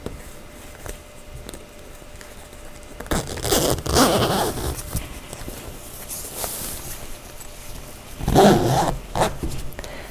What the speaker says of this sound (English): And zipping it the whole length.